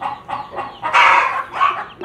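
Chickens cluck and call loudly at close range on a farm, several short squawking bursts in an uneven sequence.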